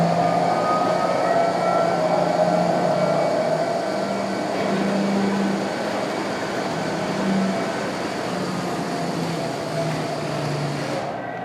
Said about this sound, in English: You got to hear all the trains